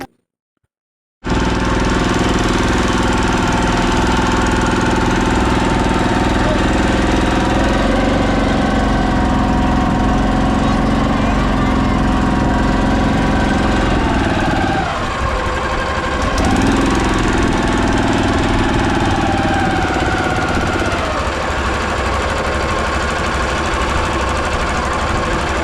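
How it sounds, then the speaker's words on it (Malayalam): A motorboat engine runs on the Ganges river, droning loud and close with a constant rattling throb that dips briefly midway before carrying on steadily. "ഞങ്ങളുടെ ബോട്ട് നീങ്ങിത്തുടങ്ങി."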